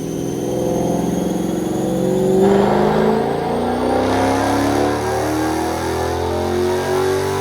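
A stock manual 2019 Dodge Challenger Scatpack wide body with the 392 6.4-litre engine revs hard on a dyno, its loud, close exhaust roar climbing in pitch through the gears in one continuous pull without talk.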